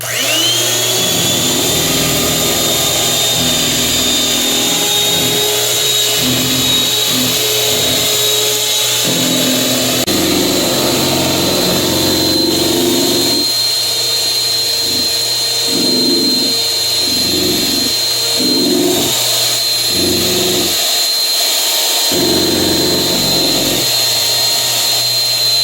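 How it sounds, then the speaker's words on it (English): A kitchen blender whirs steadily while blending homemade vanilla ice cream, a loud continuous motor whine with small shifts in pitch and load that runs the whole time without pause. "Then you take your blender"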